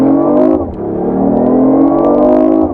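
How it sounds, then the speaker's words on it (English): The inline three-cylinder engine of a hybrid car, heard from inside the cabin, revs loudly and steadily as the car accelerates, with its tone dipping briefly at a gear change and then climbing again, with no talking. "the inline 3-cylinder engine kicks in"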